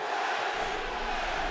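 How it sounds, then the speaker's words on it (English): A big boxing arena crowd roaring and chanting for their fighter before a Manny Pacquiao versus David Diaz bout, a steady loud wall of voices with a deep rumble coming in partway through. "The crowd chants for their man."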